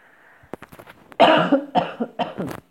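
A person coughs several times in a row, the first coughs sharp and short, then a louder, harsher cluster of coughs close by.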